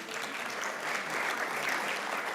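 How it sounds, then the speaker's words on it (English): Audience applause for the Permanent Representative of El Salvador at a United Nations meditation event, a steady wash of many hands clapping, moderately loud and continuous throughout. "Big round of applause to you."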